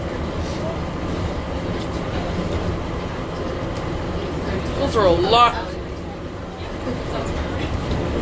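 Interior rumble of a skytrain ride in Florida or Georgia, a steady mechanical drone throughout, with a person speaking briefly near the middle over the noise.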